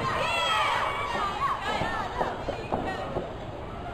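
Crowd at a wrestling match cheering and shouting, a lively babble of voices with scattered yells, somewhat distant, with no commentary over it.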